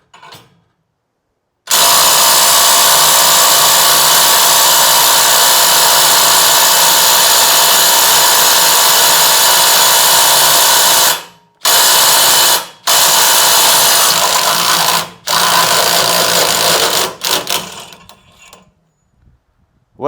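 DeWalt stubby and full-size impact guns strain against a bolt, a loud, close, sustained hammering whine that runs for about ten seconds and then breaks into several shorter bursts with brief pauses between them.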